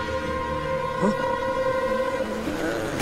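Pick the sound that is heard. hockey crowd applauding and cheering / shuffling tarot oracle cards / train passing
train passing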